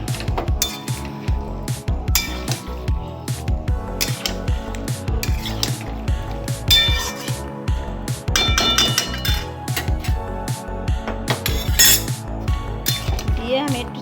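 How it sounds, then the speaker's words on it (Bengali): Metal spoon scraping and clinking against a cooking pot as marinated mutton is stirred for a curry, a steady busy clatter over a low background hum. "সেই মটনটা দিয়ে দেবো। দিয়ে নাড়তে থাকবো।"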